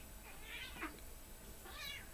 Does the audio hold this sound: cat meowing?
yes